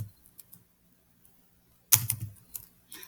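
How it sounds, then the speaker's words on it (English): Quiet computer keyboard typing, with a few soft isolated key taps followed by a brief cluster of quicker clicks, close and alone. "I'm typing"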